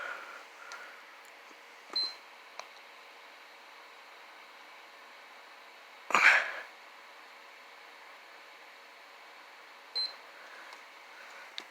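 Game controller powering off: three short, faint electronic beeps spaced a few seconds apart over quiet room hiss, the middle one slightly louder and longer.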